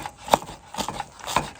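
A knife cuts through salo, cured pork fat, on a board outdoors: three distinct dull chopping thuds spaced about half a second apart, close and crisp with quiet pauses between.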